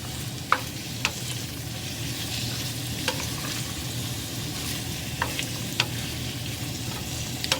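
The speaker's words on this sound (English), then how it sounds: "Now I'm going to saute these until they start getting tender" Three sliced carrots sauté in a full pan with a constant close sizzle, punctuated by occasional light scrapes and taps of stirring, and no talking.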